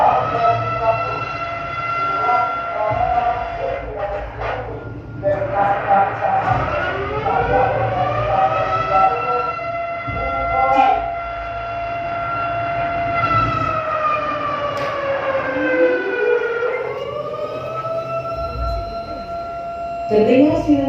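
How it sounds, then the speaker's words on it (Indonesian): A natural disaster early warning siren sounds during a tsunami-earthquake drill in Indonesia, loud rising and falling wails sweeping up and down repeatedly over a low background rumble. "Terdengar sirene peringatan dini bencana alam."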